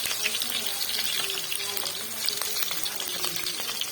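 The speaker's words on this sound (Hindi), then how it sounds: "घी जो हमारा गर्म हो चुका है, जल्दी से इसमें डालेंगे हम प्याज और लहसुन" Onion and garlic frying in hot ghee, a soft close crackling sizzle running underneath quiet background sounds.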